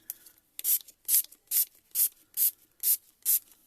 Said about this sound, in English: Then we're going to spray.